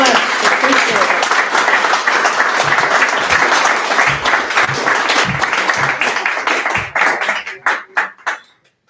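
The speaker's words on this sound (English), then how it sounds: "let's have another round of applause for Marjorie" Loud, close audience applause after a poetry reading at a poets-and-pints open mic, dense clapping that thins into a few separate claps before fading out.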